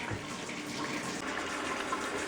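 A kitchen tap runs hot water in a steady, even stream, a constant soft rushing hiss with no pauses.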